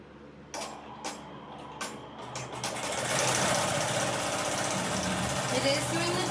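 A home embroidery machine stitches the quilting on a zipperless sunglass bag made in the hoop, starting with a few separate thumps and then settling into a steady, fast mechanical whir, loud and close.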